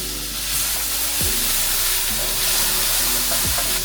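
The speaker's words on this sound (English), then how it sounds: "I'll add 3 tablespoons of butter to a hot pan and 1 tablespoon of minced garlic." Three tablespoons of butter and a tablespoon of minced garlic sizzle in a hot pan, a steady dense hiss that holds close and even throughout, with a low hum underneath and no speech.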